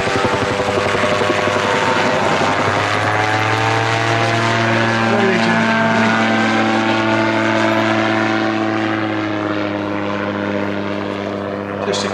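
Rotorsport Calidus gyroplane making a very slow low pass at an air display, its steady propeller and rotor drone loud and continuous throughout, with a sustained engine tone shifting slightly in pitch as it passes.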